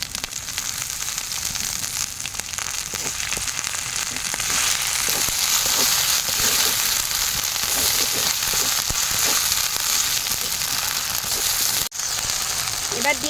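Ginger-garlic paste hits hot oil with a loud, dense sizzle and crackle that swells and then holds steadily, with one brief sharp break near the end.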